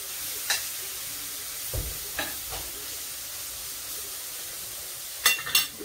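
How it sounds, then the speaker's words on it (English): Mushrooms and eggs stirred in a frying pan, a low steady sizzle broken by a few sharp scrapes and clacks of the spatula, louder knocks near the end, close and without talk. "Mix the mushrooms"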